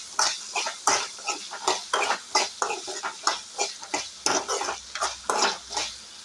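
Turmeric powder being mixed into a ground coconut and fennel paste, with repeated close scraping and stirring strokes of a spoon against a bowl in an irregular rhythm, no talking.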